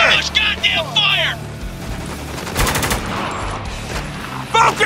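Gunfire in the video game Spec Ops: The Line, with bursts of shots and crackling rounds layered over a dense battle din. Shouted voices are heard early and again near the end.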